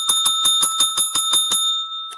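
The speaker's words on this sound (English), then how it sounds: "I got a bell." A bicycle-style bell rings in a rapid series of about nine bright dings, loud and close, then a final ding after a short pause, with no talk.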